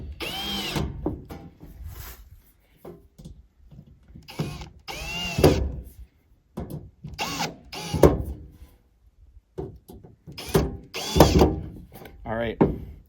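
Cordless drill driving sheet metal screws to snug up a propane wall heater mount in a cabin, several short whirring bursts separated by pauses, close and moderately loud, with a person talking between them.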